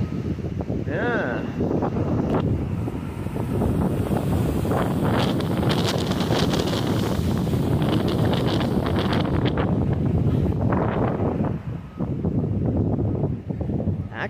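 Strong wind buffets the microphone outdoors near the water around Galveston, a loud continuous roar with gusty swells that runs the whole time, with a voice speaking faintly underneath.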